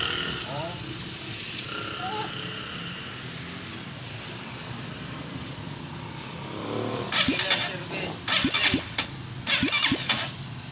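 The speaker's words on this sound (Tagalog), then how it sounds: "kinabit na natin yung kanyang starter motor at itest na natin." Over a rough background hum, a Honda XR200 motorcycle's starter motor whirs in several short cranking bursts toward the end, the engine not yet running smoothly.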